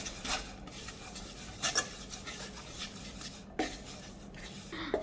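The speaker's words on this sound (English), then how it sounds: "we have to continuously stir this" Churumuri being stirred in a pan with coconut oil, a soft scraping and rubbing with a few louder scrapes, close and steady with no talk.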